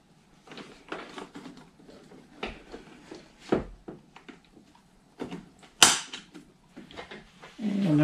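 Scattered sharp pops and clicks as plastic retaining clips are pried off a Nissan NV200 driver-side door panel, several separate snaps over quiet gaps, with one louder crack near the end.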